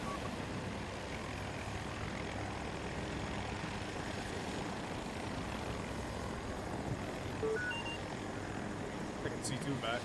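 Engine roar from a jet in the video game Battlefield 2042 fills the whole stretch, a steady, loud wash of aircraft noise with no clear breaks.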